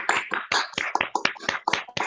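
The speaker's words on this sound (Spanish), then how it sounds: "A todos les pido, por favor, abran sus micrófonos y les damos un aplauso" Participants in an online video call clap through their open microphones, a quick run of sharp, uneven hand claps about four per second, close and fairly loud.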